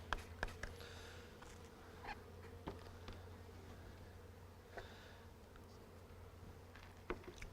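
Honey bees buzzing softly in a dense, continuous hum while a package is installed into a hive, with scattered light knocks and taps over the faint drone.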